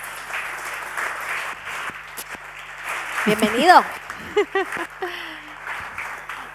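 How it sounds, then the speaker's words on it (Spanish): An audience applauds to welcome speaker David Alayón onto the stage at an Innovation Jam talk. The broad clapping fills the first seconds, then fades as a voice speaks over the tail of it. "un aplauso para él."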